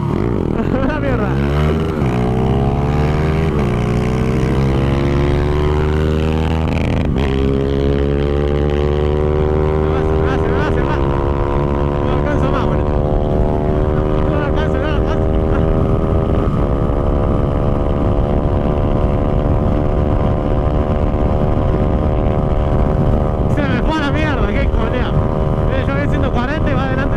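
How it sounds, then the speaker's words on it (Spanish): A loud Honda Twister 250 motorcycle engine drones continuously while riding, revving up and shifting pitch as it accelerates, with wind buffeting the microphone throughout. "Anda muy bien la moto, anda muy pero muy lindo."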